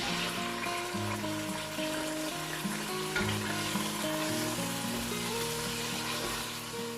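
Medium tomatoes fry with lightly sautéed onions in a pan for a boneless chicken vegetable pulao, a continuous close sizzle with occasional stirring under a steady background hum and no talking.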